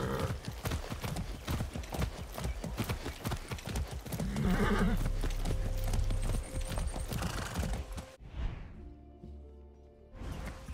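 A horse in the video game Far Cry 6 gallops with fast, rhythmic hoofbeats, neighing loudly partway through before the galloping cuts off and then resumes.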